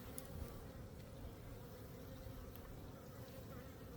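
Honey bees buzzing around an open hive at the Madison Apiary, a faint, continuous droning hum with a few brief louder passes close by.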